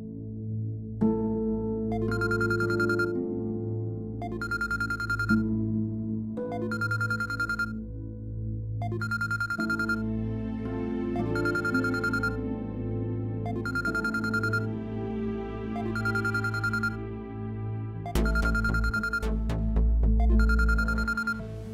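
A phone's ringtone repeats a short melodic pattern about every two seconds over a steady musical background, continuing loudly with no voices.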